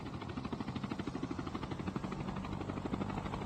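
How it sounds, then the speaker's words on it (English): A helicopter hovers overhead in the mobile shooter COD Mobile, its rotor a steady rapid chopping flutter, moderately distant and unbroken, heard alone without voices. "It's just a helicopter above"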